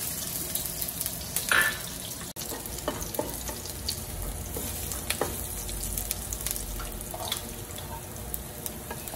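Garlic frying in hot oil in a wok for Hong Kong style ginger and scallion lobster, giving a continuous close hiss and sizzle with occasional stirring scrapes and a sharp clack, steady and moderately loud, no voices.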